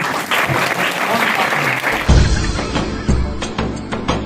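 An audience at a village primary school's girls' education and school enrolment festival claps to welcome a guest, with loud, sustained applause that shifts abruptly midway to a closer, bassier clapping.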